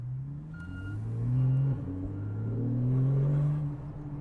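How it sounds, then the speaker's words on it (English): A Porsche 911 Carrera S (991.1) with a naturally aspirated engine revs at low speed, with a deep, close grunt whose pitch rises, dips briefly and climbs again over a steady burbling rumble. "I'm not sure if you can hear the grunt or the burbles from the naturally aspirated engine"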